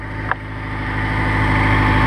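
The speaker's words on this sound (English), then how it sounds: "So the engine is running, let's go underneath." A 2001 Honda S2000 AP1 engine idles steadily through an oil and filter change check, a close, even hum with a brief sharp tap near the start and no talking.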